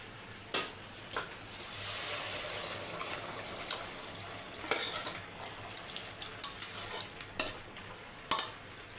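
Boiled mutton boti pieces fry and get stirred in a pan, giving a soft continuous sizzle with scattered scraping and clinking knocks from a utensil against the pan, fairly quiet and close, with no talking.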